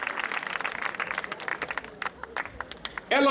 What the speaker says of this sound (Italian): ancora un applauso al Centro di Dimensione Danza di Daniela Giaffreda.